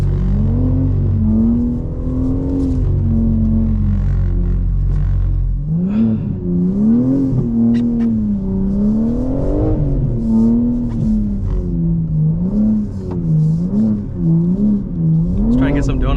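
A 2024 BMW M4 Competition xDrive drifting and doing donuts on AMP's skid pad, its engine revving up and down in wavering surges with tire noise, loud and continuous, with a driver talking over it.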